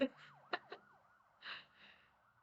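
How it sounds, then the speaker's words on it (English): In the OMORI video game, an ambulance siren wails in repeated quick up-and-down sweeps, faint and thin, with a few soft breath-like sounds over it. "I get the feeling the ambulance is for Basil."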